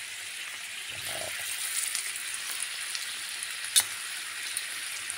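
Small potatoes frying golden in fat, margarine among the cooking fats, a steady close hiss of sizzling with a brief scrape and clink partway through as they are turned.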